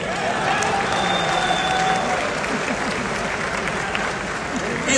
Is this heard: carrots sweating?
no